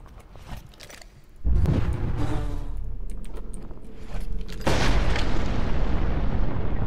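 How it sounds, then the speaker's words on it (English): Explosions in the video game Rose of Meat: a loud booming blast hits at about 1.5 seconds, followed by sustained rumbling, and a second heavy burst at around 4.7 seconds. No one speaks. "I like how you stood right next to the explosion."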